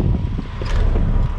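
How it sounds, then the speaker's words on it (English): Steady, heavy wind buffeting the microphone outdoors, a continuous low rumbling roar with no pauses. "Ooh, it's windy out here."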